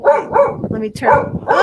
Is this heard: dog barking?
yes